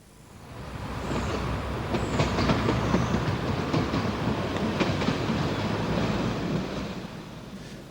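A London Underground Hammersmith line train runs past White City, a steady rumbling roll with rhythmic clicking of wheels over rail joints that swells in and holds loud for several seconds with no voices.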